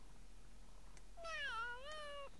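A single drawn-out cat meow, rising then falling, from The Sims video game, clear against a quiet background hum.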